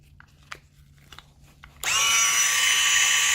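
An i-scrub 21B small commercial floor scrubber starts up at once, its counter-rotating brushes spinning at 400 RPM with a loud, steady motorized whir that holds after a few faint clicks.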